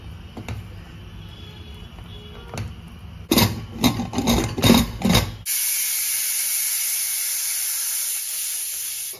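A pressure cooker, used for a dish of fresh lima beans and plantain with muthiya, lets out a loud, sustained hiss of escaping steam after a burst of rattling and clinking.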